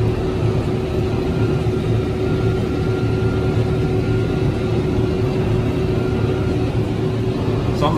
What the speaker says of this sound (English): Pulling it in. And it looks like it's stuffing it.